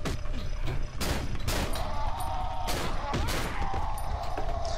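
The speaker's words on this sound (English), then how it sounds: "he's using his little magnum and it's like ding ding ding ding" Gunfire from a magnum revolver in the horror video game Cry of Fear, heard as several sharp, loud shots spaced over a few seconds amid dense game noise.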